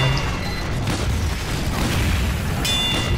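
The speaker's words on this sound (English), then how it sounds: "The loose cannon actually does damage to the sentry." Loose Cannon firing in the video game Team Fortress 2, heard as a dense, continuous booming roar of explosions with a sharp burst near the end, loud and without talking.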